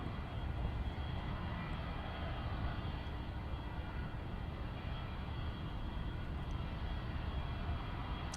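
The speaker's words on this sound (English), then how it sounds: "787-9 Dreamliner, second variant of the Dreamliner family, entered service in June 2014" A Boeing 787-9 Dreamliner airliner flies at the Farnborough International Airshow, giving a steady, continuous jet engine roar that holds at an even level throughout, without talk.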